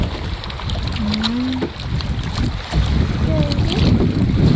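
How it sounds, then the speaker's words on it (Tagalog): Strong sea waves slosh and roar around a small boat heading to an island, with heavy wind buffeting the microphone and a constant loud wash, a faint voice briefly underneath. "palakas ng alon"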